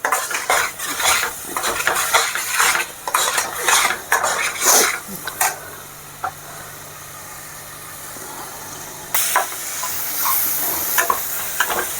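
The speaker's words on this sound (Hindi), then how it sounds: "बीच बीच में चलाते रहना है कि आपका मसाला बिल्कुल जले नहीं, चिपके नहीं" A metal spoon scrapes and clanks again and again against a pan as masala is stirred and roasted for chole. The strokes come in irregular bursts close up, with a faint sizzle underneath.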